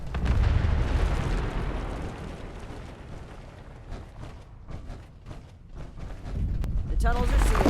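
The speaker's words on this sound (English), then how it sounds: "I'm detonating the bombs. Stand back!" Bombs detonating in Fallout 76 during a Brotherhood of Steel tunnel mission, a heavy rumbling blast that swells loud at the start, rolls on through scattered crackling debris, then surges again near the end.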